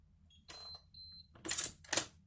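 A RemoteLock electronic door lock gives short beeps, then two louder bursts of motorised bolt whirring, close and clear in a quiet room.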